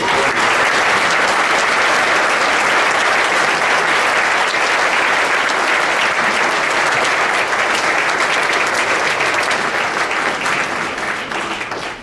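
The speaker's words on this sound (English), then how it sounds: "let's give them a big round of applause" Loud, sustained applause from an audience at an evening forum for four governor candidates in Mounds View, a dense steady wash of clapping for about twelve seconds that fades slightly at the very end.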